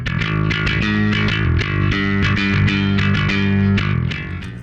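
A bright, trebly Fender electric bass plays alone in 1990s punk style, a driving line of fast picked notes with a punchy, slightly gritty edge.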